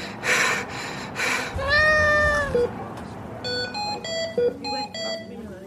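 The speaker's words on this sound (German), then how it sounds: "Hast du dir eine Katze zugelegt?" One of four pet cats gives a clear, drawn-out meow, preceded by breathy noise bursts and followed by a run of electronic alarm-like beeps, all fairly close.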